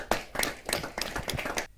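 A small handful of audience members at a Hindi kavi sammelan poetry gathering give about six separate, moderately loud handclaps spaced unevenly across a short stretch, with no talking.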